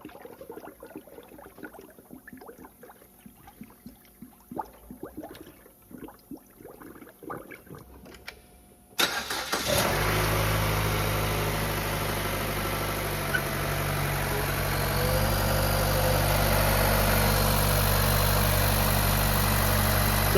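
A 2011-2015 Chevy Cruze 1.4T engine, after water pump and belt tensioner replacement, cranks and fires about halfway through following quiet shuffling. It then settles into a steady, close, droning idle with a faint belt whine.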